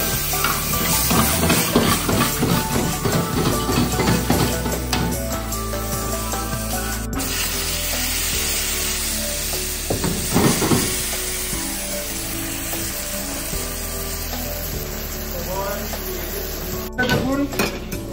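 Onion, dried chilli and whole cumin frying in a pan, a constant sizzle broken by scraping and clinking as the spatula stirs against the metal.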